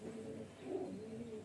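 A highflyer pigeon, a hen of dark-feathered stock, gives a steady, low, rolling coo that carries through the whole moment, close and fairly soft with no voices over it.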